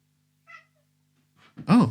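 A faint short chirp, then a clear high-pitched kitten meow, close and alone.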